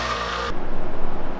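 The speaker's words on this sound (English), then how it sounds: "take that lip to the sander and cut it flat and shorter" A power sander cuts down the plastic lip of a small handmade jerkbait, a loud, close motor whine for half a second that then drops into a rougher, pulsing grind as the tool slows.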